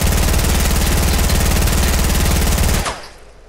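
Minigun in Fortnite fires a continuous, rapid mechanical rattle of shots, loud and close, sustained for nearly three seconds before cutting off abruptly.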